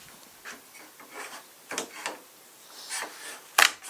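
Recycled lumber held together with glue and staples being pried apart, giving a series of short scraping, creaking wood rubs and a sharper crack near the end, close by with no talking.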